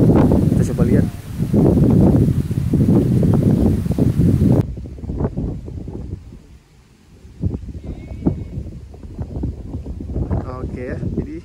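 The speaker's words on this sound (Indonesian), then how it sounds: "Ini ada daun yang kena tiup angin" Leaves rustle in gusting wind outdoors, a steady broadband whoosh that is loud at first, then drops to softer, intermittent rustling with occasional faint voices.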